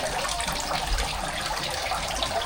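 Water trickles and splashes steadily into a fish pond in a continuous, close, even wash of sound with no voices.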